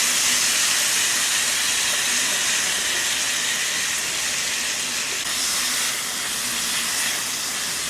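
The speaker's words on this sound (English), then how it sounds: "Once you start to hear the corn sizzle" Frozen corn sizzles in melted butter in a pan, giving a loud, steady hiss that holds at an even level throughout, with no voices.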